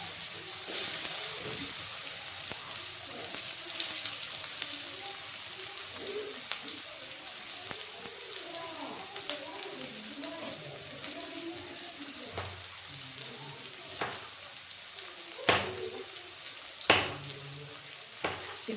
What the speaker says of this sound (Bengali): মাছ ভাজা তেলের মধ্যে পেঁয়াজ দিয়ে দিলাম।